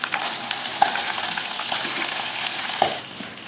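About ten crushed garlic cloves dropped into hot oil and frying in a home kitchen, giving a steady close sizzle with a couple of brief louder crackles, with no voices.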